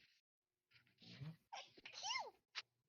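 A person sneezes during a quiet tabletop game session, a sharp burst with a breathy intake before it, followed by brief faint vocal sounds; close and clear against near silence.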